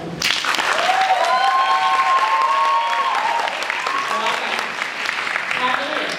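Loud, sustained audience applause follows a drama thesis stage performance, dense clapping from start to finish with cheering voices and whistles mixed in.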